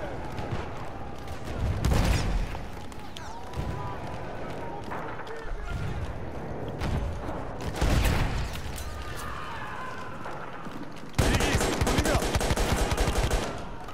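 Bursts of rifle and machine gun fire in the video game Battlefield 1 on the Tsaritsyn map, with repeated shots and volleys over continuous battlefield din, loud and busy throughout.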